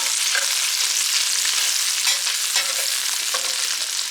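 Steady, dense sizzling and crackling of bacon frying in a pan, close and continuous with small pops scattered throughout.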